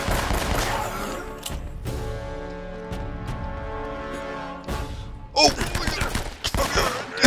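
Gunfire from a sniper fight in Uncharted: Drake's Fortune, a run of sharp shots and thuds over music-like game tones, with a louder burst of shots near the end.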